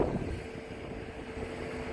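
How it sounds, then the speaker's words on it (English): Strong wind buffeting the microphone at the Mount Washington summit, a steady low roar of gusts at moderate level with no voices. "Look how windy it is."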